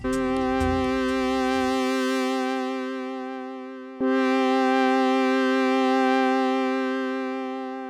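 Two sustained chords from an Oberheim analog polyphonic synthesizer (OB-X8 or OB-6) ring out, rich and bright, each held for several seconds and slowly fading; the second starts abruptly as the first decays.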